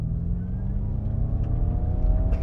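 Ford Mustang Mach-E GT electric car launching hard in Unbridled mode, a steady loud drivetrain whine and rising tonal hum with road rumble beneath, continuous throughout.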